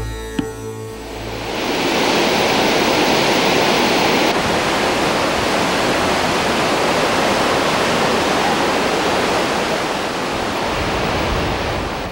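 Roaring river beside a Himalayan trekking trail near Phak Ding in Nepal, a loud, continuous broadband rush of churning whitewater that swells in after a quiet opening second and holds steady throughout, with no voices.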